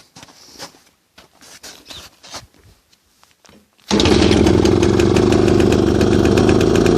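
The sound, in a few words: Pannonia motorcycle engine starting and idling after winter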